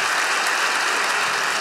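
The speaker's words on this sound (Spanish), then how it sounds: "Fuerte el aplauso para ellos que van a ser papás" Dense, steady applause fills a comedy show audience celebrating a couple expecting two children, an even wash of many hands clapping close by with no talk.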